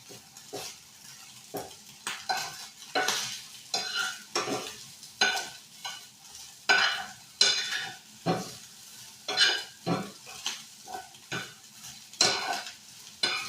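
Leftover rice is stir-fried in a pan until browned, with a soft sizzle under repeated scraping strokes of a utensil against the pan, about one every second, close and alone.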